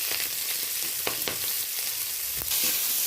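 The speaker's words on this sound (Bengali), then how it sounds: "তারই সাথে চেরা কাঁচা লঙ্কা আর পেঁয়াজটাও দিয়ে দিলাম।" Panch phoron, slit green chilli and onion frying in hot mustard oil, a close, dense crackling sizzle with a few stirring scrapes across the short stretch, no voices.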